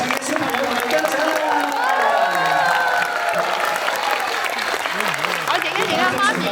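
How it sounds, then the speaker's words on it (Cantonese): An audience at a kindergarten event applauds and cheers for the children and parents on stage, a loud continuous roll of clapping mixed with whoops and crowd voices chattering throughout. "請大家俾再一次最熱烈嘅掌聲"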